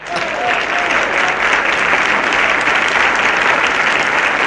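Loud, sustained applause from a crowd, dense steady clapping filling the whole stretch without pause.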